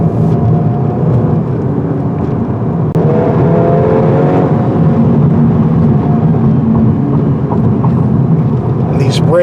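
A 2025 Volkswagen Golf R accelerates hard on the road, its engine note rising steadily under loud, constant wind and road roar heard from inside the car, with a brief gear shift partway through.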